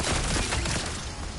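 A dense barrage of gunfire in the game Marathon, a rapid fusillade of overlapping shots forming a loud, continuous roar that eases slightly toward the end.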